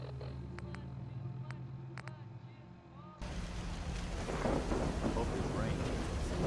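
Rain and thunder in the Fallout 4 game world, starting with faint clicks and hum, then a sudden loud wash of heavy rain with a rolling thunder rumble.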